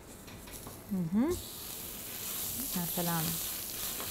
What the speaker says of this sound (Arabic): بدنا ننزل الزبدة أول شيء.